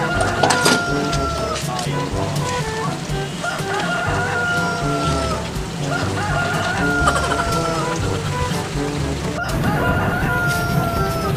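Chickens cluck continuously and loud, close by, with a rooster crowing more than once over the busy flock.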